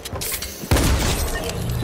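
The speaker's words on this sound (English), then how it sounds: "Those charged shotguns, man." A charged shotgun fires in Fortnite, giving one sudden heavy boom that hits midway through and rings out over a busy background of game noise.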